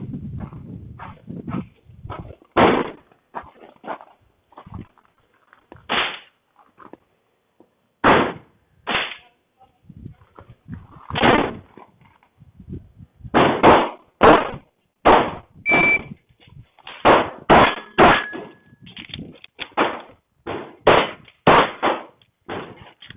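A Stealth Arms Platypus pistol fires repeatedly at steel targets: sharp, loud, close shots in quick clusters with brief pauses between strings, and no talking.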